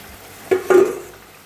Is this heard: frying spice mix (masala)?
yes